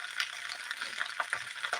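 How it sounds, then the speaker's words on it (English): Onions, potatoes and kielbasa fry in a pan with a steady, close crackling sizzle and small popping spits throughout, with no talk. "You hear the frying, I've got onions and taters and kielbasa"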